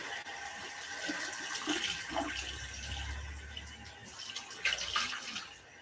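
Water from a tap runs and splashes as a face is rinsed clean during a facial, a quiet, continuous watery hiss with a few louder splashes and no speech.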